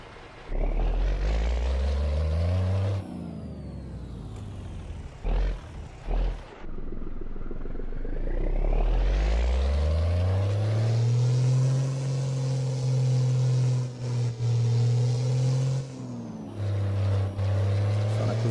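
A heavy truck engine in a truck-driving video game revs hard and rumbles loudly, dipping briefly near the middle before climbing into a long, steady high-rev drone, with a gear shift near the end.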